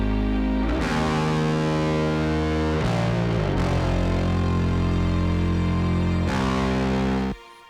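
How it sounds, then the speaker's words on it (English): Gritty distorted bass layer drives a music beat, loud and continuous with sustained low notes, joined by violins and a pad, with brief drops near the start and middle before cutting off at the end. "So when bass 2 kicks in, it's even more grit and distortion."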